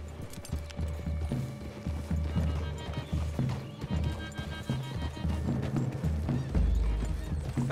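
Horses in Red Dead Redemption 2 clip-clop steadily at a gallop and neigh, loud and close, with a low rumble of game ambience beneath the hooves.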